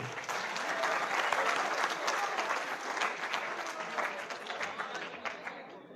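Dense, sustained audience applause at a mushaira, a poetry gathering at a law college, steady and full for six seconds before easing slightly at the end.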